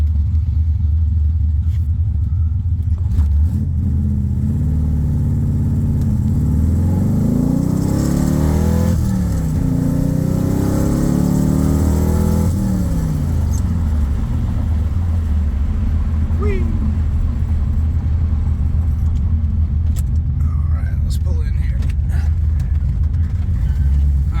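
A 1977 Corvette with a cam and a four-speed manual is driven on the road, its deep engine rumble rising and falling through acceleration and gear changes, loud and continuous from inside the car, with some talking.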